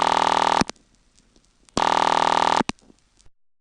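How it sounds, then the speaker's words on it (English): A telephone ring heard from inside a telephone central office, recorded at the Seattle Phone Museum: two loud, harsh buzzing bursts separated by a short pause, each followed by faint clicks before it fades to silence. "here's the way the ring sounds when you're right in the central office."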